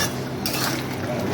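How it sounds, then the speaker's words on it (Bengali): A spoon stirs sugar into a potato and pointed gourd curry in a pan, a short close burst of scraping and clinking over a faint simmer. "চিনি দিয়ে আমরা একটু নেড়ে নামিয়ে দেব"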